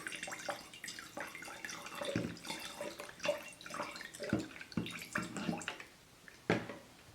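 Rubbing alcohol poured into a jar of water for a homemade thermometer, giving light irregular trickles, drips and splashes, fairly quiet and close, with no voices.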